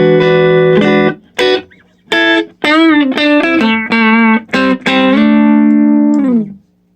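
An electric guitar played through a hand-wired Tweed Deluxe tube amp rings out in loud, slightly overdriven sustained chords and short melodic notes with brief gaps, with no talking over it.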